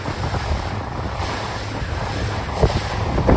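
Steady wind roars across the microphone on open water as a rain cloud passes, mixed with the wash of water and waves, with no voices.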